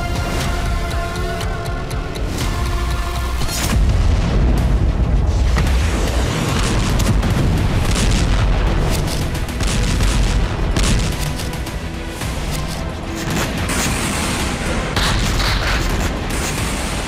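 Explosions boom repeatedly amid dense, rumbling broadband noise, heavy blasts and crackling bursts layered over one another in a loud, chaotic sequence with no voices.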